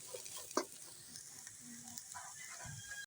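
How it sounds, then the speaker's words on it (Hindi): Green chilies roast lightly in a pan, a faint, quiet sizzle with a few soft clicks and stirring touches. "हरी मिर्च भून लेंगे हम हल्की सी, बहुत तेज नहीं है ये मिर्ची।"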